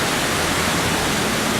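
Waterfalls where a river splits and spills over basalt cliffs, a steady, loud, broadband rush of water with no other sounds.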